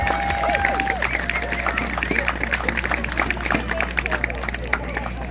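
Outdoor crowd at a Polar Bear Plunge event clapping, with dense, scattered hand claps and some cheering running under a loud, nearby voice talking.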